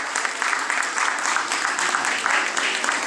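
Audience applause at a school spelling bee, a dense steady clapping from a crowd that holds at an even level for a few seconds with no talk over it.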